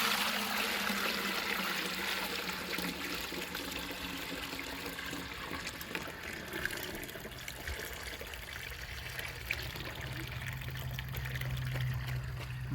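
Freshly pressed sugarcane juice pours out in a steady, continuous liquid stream, close and fairly loud, with no talking over it.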